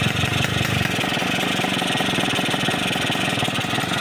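A Yamaha RX King motorcycle idles close up, its engine note steady and continuous with a dense, rapid pulsing rhythm and a loud exhaust.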